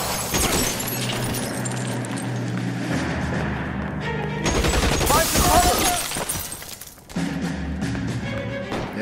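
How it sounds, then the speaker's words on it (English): Tommy gun fire in the video game L.A. Noire, rapid bursts of automatic shots with breaking glass mixed into loud game noise and background music. "I am definitely glad I took the Tommy gun along with me for this one"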